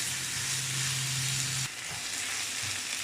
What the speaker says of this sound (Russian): В сковороде разогреваю пару ложек растительного масла и перекладываю лук обжариваться